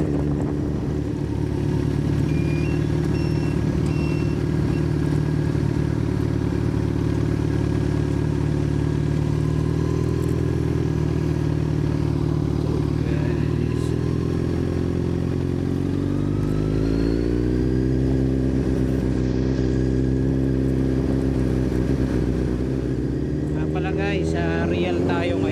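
A Kawasaki Z1000R motorcycle engine drones steadily for a long stretch, its pitch rising and falling as it shifts and accelerates, with some clatter and a voice at times.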